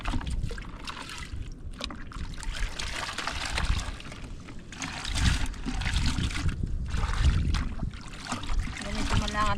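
Water trickles and pours in uneven splashing bursts while freshly gathered shellfish are rinsed in fresh water outdoors, moderately faint, with people talking nearby.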